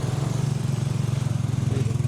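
Motorcycles crossing a swaying hanging bridge at an animal market in Moises Padilla, Philippines, their engines droning in a steady close putter that stays loud throughout.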